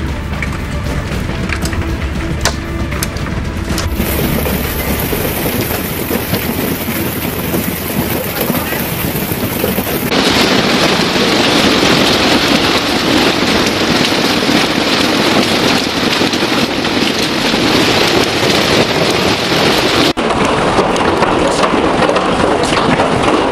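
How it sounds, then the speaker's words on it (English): Hailstones pelt down during a thunderstorm, a loud, dense, unbroken roar of impacts and rattling that stays intense throughout, shifting in texture partway through. "There are several reasons why hailstones fall to the ground."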